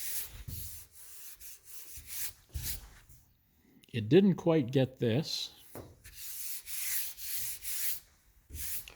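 Sandpaper rubs by hand across a panel coated in a high-build direct-to-substrate primer, making repeated raspy strokes in irregular bursts, close and moderately loud, with someone speaking briefly in the middle.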